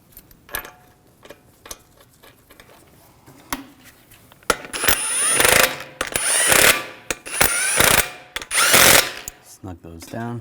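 Lug bolts on a 2001-2009 Volvo S60 front wheel being snugged down with a ratchet, quiet clicks at first, then louder bursts of rapid ratcheting and metallic clatter, close by, with brief talk.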